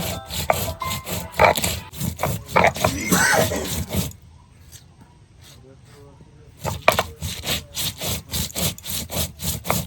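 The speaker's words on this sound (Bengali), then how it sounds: "গোলমরিচটা বেটে নেব" Black pepper being ground on a traditional grinding stone in a home kitchen, with rapid rhythmic back-and-forth scraping strokes, loud and close, that pause for a few seconds and then resume.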